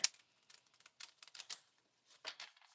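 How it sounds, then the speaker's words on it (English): A deck of cards being shuffled by hand on a rainy day makes soft, quick clusters of riffling patters with short pauses between bursts, close and quiet. "Shuffling up my cards."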